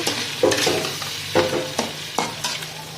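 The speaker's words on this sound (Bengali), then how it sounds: "আদা রসুন ইয়ে হয়ে গেছে এখানে দিয়ে দিচ্ছি এই জিরিটা আদা রসুনের ওপরে" Cumin seeds hit ginger-garlic paste frying in a pan for a potato fry, giving a close sizzle broken by several sharp stirring scrapes at an uneven rhythm, with no voice.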